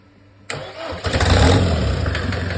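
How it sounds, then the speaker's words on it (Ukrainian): A Mercedes Vito 638 OM601 2.3 turbo diesel engine cranks without glow plugs, catches after about half a second, and settles into a loud, close, rough idle. "Давай без свічок його диркни."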